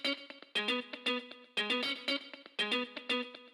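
A short rhythmic guitar loop cut to recreate the part from a disco-house track, with choppy repeated chord stabs in a steady funky groove, treated with distortion and chorus-like effects, played alone and up close.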